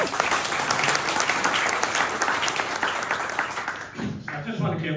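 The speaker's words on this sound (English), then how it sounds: "Round of applause, please." Audience in a pub applauding at a politics talk about community independent politicians, steady loud clapping filling most of the moment before fading, with voices starting at the end.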